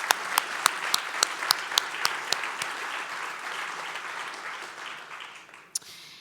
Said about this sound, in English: Round of applause for our regional leaders,